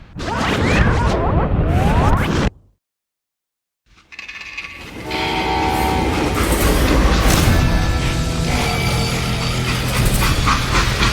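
Train in the video game Call of Juarez: loud rumbling rail noise and whooshing, cut by a brief silence, then a steady heavy rolling roar with metallic squeal tones continuing to the end.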